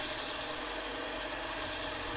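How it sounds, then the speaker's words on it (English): A lathe spins at a slow speed while 120-grit emery cloth sands the finish on a shamrock ring, giving a steady, quiet broadband whir and hiss that runs unbroken with no talking. "Keep the lathe at a slower speed so I don't burn the finish."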